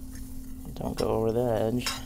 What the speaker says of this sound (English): I'll just mix that up a little bit.